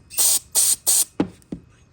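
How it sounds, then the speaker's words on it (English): Three sustained hissing blasts of carburetor cleaner sprayed onto a Troy-Bilt XP riding mower engine, each lasting about a quarter second, followed by two brief, sharp knocks. "Then we'll go ahead and take a blast of carburetor cleaner."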